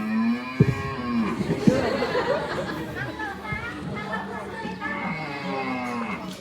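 A cow being led along during a school skit moos in several low, drawn-out calls, close and fairly loud, with people's voices and chatter around it throughout.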